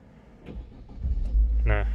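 A Wuling Confero S 1.5L Lux+ manual facelift car engine is started: a brief cranking whir, then the engine catches and settles into a steady low idle, while a voice talks nearby.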